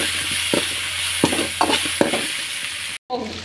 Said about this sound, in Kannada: ಅರಿಶಿನ ಹಾಕ್ಕೊಂಡು ಸ್ವಲ್ಪ ಫ್ರೈ ಮಾಡ್ಕೊಳ್ಳಿ